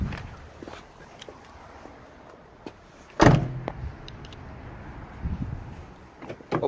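The second-row sliding door of a 2006 Toyota Sienna LE minivan is opened, with one sharp, fairly close clunk midway and a few quieter handling knocks and rattles around it in an otherwise quiet cabin.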